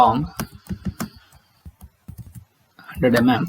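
Rapid clicks of typing on a computer keyboard, irregular bursts of keystrokes close by, broken by short pauses, with a voice-like sound among them.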